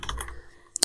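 Quick keystrokes on a computer keyboard while entering a PowerShell command in Windows 10, a short close cluster of clicks ending in a sharper final tap.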